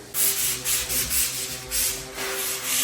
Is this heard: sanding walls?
yes